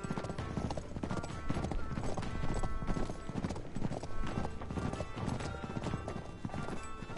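Horses gallop in the video game Uncharted: Drake's Deception, with dense, continuous hoofbeats pounding steadily and loudly throughout, mixed with rumbling game sound.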